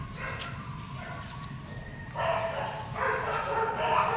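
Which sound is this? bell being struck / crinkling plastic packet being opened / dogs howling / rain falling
dogs howling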